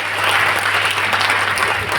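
Short burst of loud audience applause at a Hindi-language business presentation, many people clapping together densely for the full two seconds, with a low steady hum underneath.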